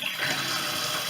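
Water runs from a tap at a fish tank setup as a steady, hissing gush that stays even and continuous from start to finish, fairly loud and close, with no voices.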